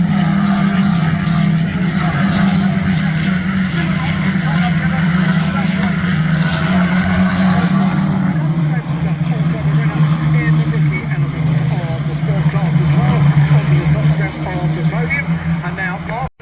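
Racing engines roar loudly and continuously as British Touring Car Championship cars pull away together at a race start at Knockhill, 2024, with a voice talking over the din.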